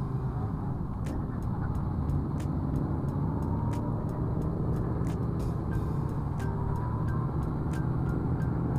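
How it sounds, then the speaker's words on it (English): Steady road traffic on a busy long-weekend highway near Banff, a continuous rumble of many cars and trucks passing, with a regular clicking overlaid throughout. "Lots of vehicles today because of the long weekend."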